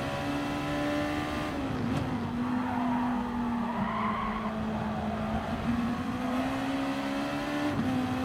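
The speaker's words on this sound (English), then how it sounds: "the cars in front are really struggling on their tires, because they are sliding around a lot" Gr.2 race cars slide on worn tires at the Red Bull Ring in Gran Turismo Sport, a sustained steady tire squeal over a droning engine note that holds loud and continuous throughout.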